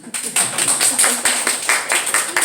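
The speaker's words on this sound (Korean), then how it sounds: "그래서 한번 박수 한번 해주시죠" A church congregation applauds with a quick run of overlapping, fairly close hand claps in an irregular patter that lasts the whole moment.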